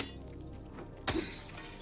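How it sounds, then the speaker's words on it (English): Car glass shatters in Silent Hill 2 Remake, a single sudden crash with a bright tinkling spray after a stretch of quiet, low ambience. "So you can break glass"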